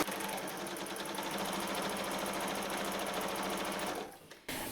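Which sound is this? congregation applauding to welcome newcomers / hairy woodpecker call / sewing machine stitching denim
sewing machine stitching denim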